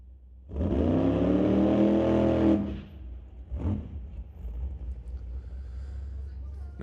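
A drag racing dragster on a test run roars loudly for about two seconds with a rising engine note, then cuts off, followed by a brief second burst and a lingering low rumble.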